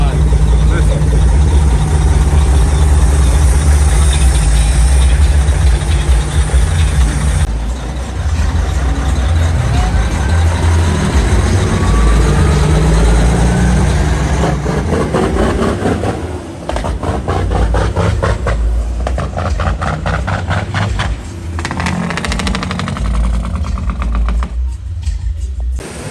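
A 2013 International ProStar truck with a 14-liter engine rumbles loudly and steadily at close range, a deep idle that continues throughout with slight changes in level.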